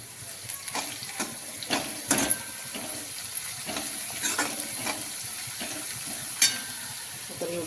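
Onion and fenugreek leaves sautéing in a pan, giving a steady close sizzle with repeated spatula scrapes and a few sharper knocks against the pan, with no talking.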